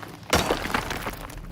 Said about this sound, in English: apart from Butcher, who smashes up the headstone in defiance.